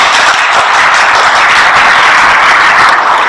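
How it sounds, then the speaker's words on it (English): Sustained, dense applause from an audience clapping for the teaching staff at a school silver jubilee celebration, loud and steady throughout without a break. "Shall we all once again clap with the teaching staff?"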